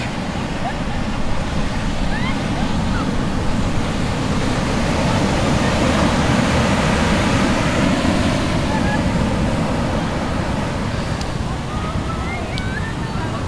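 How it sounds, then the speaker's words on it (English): Large surf breaks at Sunset Beach on the north shore of Oahu at sunset, a continuous broad roar of waves with wind noise buffeting the microphone, steady and loud throughout with no talk. "I can really tell these waves out there are getting really big."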